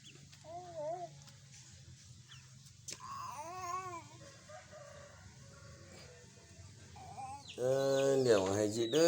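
A cat meows several times while playing with a duckling, its calls rising and falling at a moderate distance. Quiet background voices talk throughout, and a louder, rougher caterwaul-like cry comes near the end.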